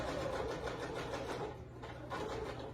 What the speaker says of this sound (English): I'm not going to talk while I'm sewing right now because you might not can hear me.